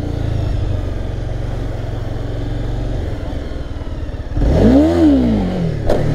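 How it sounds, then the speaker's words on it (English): A Honda CBR300 motorcycle engine idles and then revs high in one sharp rising-and-falling burst near the end, loud and close. "That was really revved high."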